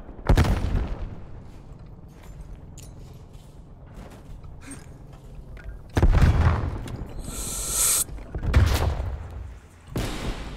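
A grenade detonates in the video game Black Ops Cold War on the Nuketown map, with heavy booms near the start, at six seconds and again near nine, mixed with scattered gunfire and quieter mechanical game noise between the blasts.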